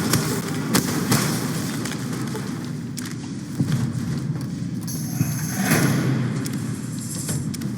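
Weapons fire in the video game Fallout: New Vegas, around Boulder City. A few sharp shots ring out at irregular intervals over a dense, rumbling background of game noise, with no one talking.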